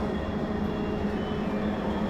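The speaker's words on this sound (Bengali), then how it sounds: "ওই যে আর একটা ট্রেন আসতেছে একদম সামনে বসছে" A metro train pulling into a station in Riyadh, Saudi Arabia, a steady loud rumble and hum of wheels and motors throughout, no voices.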